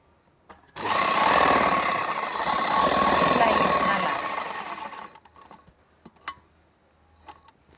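A sewing machine stitches a slanted seam on salwar fabric in a boutique, running in a loud, fast mechanical whirr for about four seconds, then stopping. Soft clicks and handling sounds follow.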